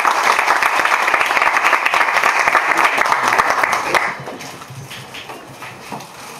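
Audience applause at a literary recitation contest, loud, dense clapping that fills the first four seconds and then drops off, leaving a thinner room tail with a few scattered claps.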